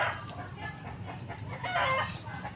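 A rooster crows at moderate distance in an outdoor Filipino backyard setting, a single drawn-out call rising over steady ambient background noise, with clucking fowl nearby.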